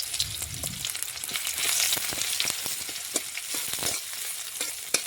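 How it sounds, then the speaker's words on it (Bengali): Chopped onion frying in hot oil in a pan, cooked slowly toward a reddish colour: a steady, fairly loud sizzle with sharp spatter crackles and a few stirring scrapes, no voices. "এখন বেশ কিছুক্ষণ সময় নিয়ে পেঁয়াজ একটু লাল লাল করে ভেজে নিতে হবে।"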